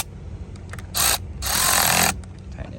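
A power tool tightens down a car battery bracket, giving two loud bursts of high whirring: a short one, then a longer steady run of about half a second, with quiet shop background between.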